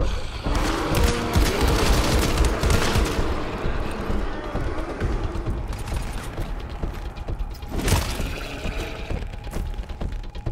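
Gunfire in GTFO, rapid continuous automatic shooting with mechanical clatter, dense and loud through the first half, then thinning out with a few sharp shots later.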